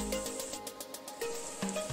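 Samosas frying in hot oil at home until golden, giving a soft, steady sizzle with faint clinks, close and quiet, with no talk.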